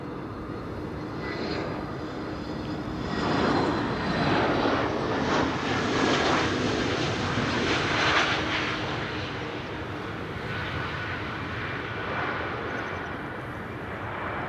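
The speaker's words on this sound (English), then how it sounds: "More Transavia A321neos approaching." Transavia Airbus A321neo approaching Amsterdam Schiphol, its engine roar building gently to a fuller peak in the middle then easing slightly, a steady airborne jet sound with no one talking.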